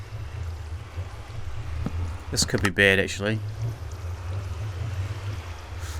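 Rushing water in Minecraft sweeping across a redstone-triggered floor on a witch farm, a constant low wash and gurgle beneath a man's brief speech.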